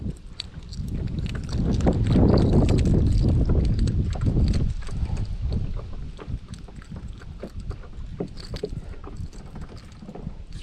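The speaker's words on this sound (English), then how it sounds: "This wind is killing me." Wind buffeting a microphone on a fishing boat out on the water, a loud, steady low rumble that swells early and then settles, with small knocks and splashes underneath.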